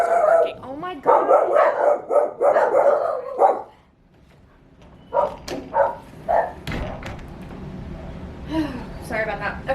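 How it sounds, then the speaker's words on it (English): Dogs bark and yip in bursts, close by, with a person speaking over and between the barks. "Sorry, my dogs are barking."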